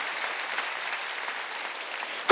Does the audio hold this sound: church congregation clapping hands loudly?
yes